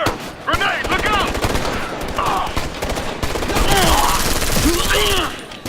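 Rapid gunfire rattles through a firefight in Ghost Recon Future Soldier, bursts of automatic shots layered with a player talking and game voice chatter throughout.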